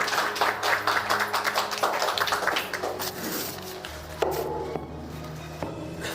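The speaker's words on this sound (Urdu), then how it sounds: "زوردار تالیاں بجائیے گا" An audience at an International Women's Day event at a city press club in Karachi applauds, giving dense, fairly loud clapping that thins out and fades toward the end.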